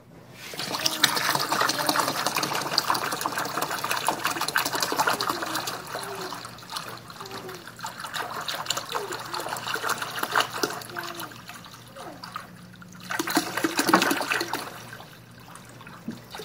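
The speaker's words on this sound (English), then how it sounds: "let's fill it up with water." Water pours and trickles steadily into a container for most of the stretch, a continuous splashing fill with a brief louder gush near the end.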